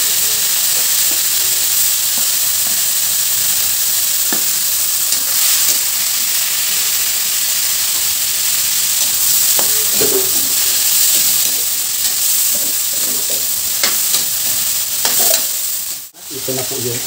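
Torta omelette frying in a pan while being stirred, a loud steady sizzle close up with scattered light scrapes and taps of a utensil, alone and unbroken until a brief dip near the end.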